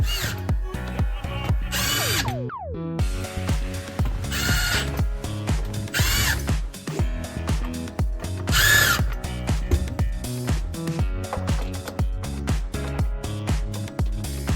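A power drill drives screws back into a dishwasher in short, whirring bursts with ratcheting clicks, loud and close, the motor starting and stopping repeatedly in a rhythmic series.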